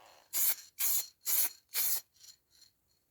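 Four short, even bursts of aerosol spray put a light coat of paint on a Rover 45 car door handle, each hiss close and crisp, followed by two or three fainter, shorter puffs.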